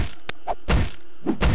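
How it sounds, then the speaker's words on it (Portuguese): Repeated whacks against a tree in the survival video game 7 Days to Die, a handful of sharp thuds in an irregular rhythm, close and fairly loud with no talk. "dando porrada em árvore"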